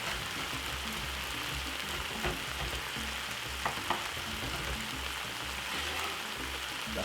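Garlic frying in a pan with white onion for Jamaican jerk prawns, a steady close sizzle that holds constant, with a few faint clicks and no talking.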